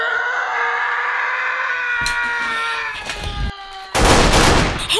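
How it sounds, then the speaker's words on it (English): Nerf blasters fire during a Nerf war as a clustered run of sharp pops and clatters, ending in a loud, dense burst, with a high voice cry at the start. "a lot of people are shooting!"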